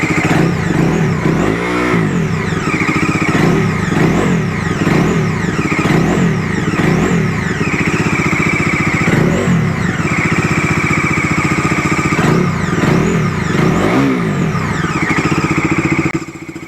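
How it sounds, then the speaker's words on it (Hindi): A 2025 Bajaj Dominar 250 motorcycle revs repeatedly through its silencer, the exhaust note climbing and falling in a steady series of throttle blips, loud and close throughout with no talk. "डोमिनर 250 2025 का लेटेस्ट वर्जन जो अपडेट किया है उसका वॉइस सुनते हैं, यानी कि साइलेंसर का एग्जॉस्ट नोट।"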